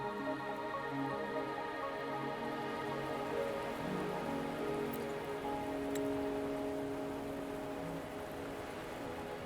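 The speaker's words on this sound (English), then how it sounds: "Are you trapped here by the rain?" Steady rain falls throughout a video game scene, an even hiss of drops on surfaces with no pauses, fairly soft and continuous, no voices.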